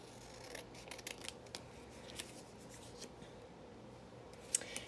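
Scissors snip through paper while cutting out letters for a glue book, a string of quiet, brief crisp snips and rustles spread across the clip with no talk.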